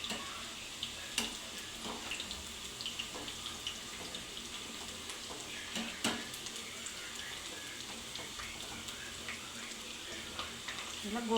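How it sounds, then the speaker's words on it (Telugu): Small pakodi fritters deep-fry in lightly heated oil, giving a steady soft hiss with faint scattered crackles throughout, fairly quiet and with no talk. "ఇలా గోల్డెన్ బ్రౌన్ కలర్ వచ్చే వరకు వేయించుకోవాలన్నమాట."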